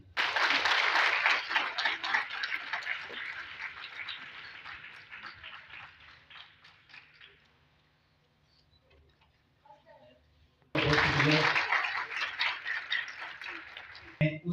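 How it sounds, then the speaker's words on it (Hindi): Audience applause at a school prize ceremony for an English and Urdu grammar competition, a dense patter of many hands that fades out, pauses, then bursts back loud. "जीशान हुसैन साहब जी के तालियां।"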